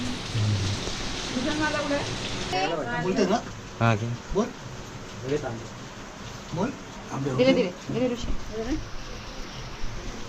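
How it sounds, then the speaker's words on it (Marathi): Heavy rain pours steadily during a Ganpati arrival day in the Konkan, a broad constant hiss beneath loud, close speech that runs through most of the stretch. "पहिल्याच दिवशी पाऊस पडायला लागला इकडे"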